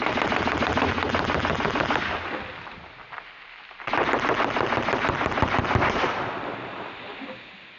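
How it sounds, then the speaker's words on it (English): A full-auto BB gun fires at a grape soda 2-liter bottle in two long, rapid bursts of dense cracking shots separated by a short pause, loud and close with no speech. "If you've never tried these full auto BB guns, I highly recommend it."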